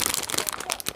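Close, rapid crinkling of thin plastic, a steady run of crackly rustles with no voices.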